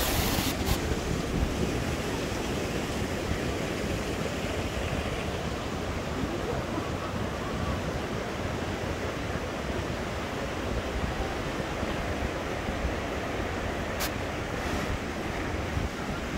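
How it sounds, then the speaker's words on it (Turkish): A waterfall at the Tunceli springs, rushing in a loud, steady broadband roar that stays constant and close the whole time, with some wind buffeting on the microphone. "Şelaleye baksana Yasin, çok güzel."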